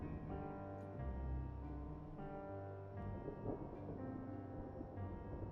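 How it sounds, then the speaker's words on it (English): Low rumbling thunder rolls through a stormy scene in the video game Final Fantasy XIV, a faint continuous rumble with rain-like texture and no talking. "Is that thunder?"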